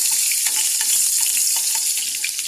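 Chopped ginger sautéing in a hot pan, giving a close, dense sizzle with small crackling pops scattered throughout and no voices.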